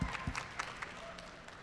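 An audience at the 44th annual Eve of Nations evening event claps and cheers with a burst of applause and whoops, steady crowd noise continuing throughout.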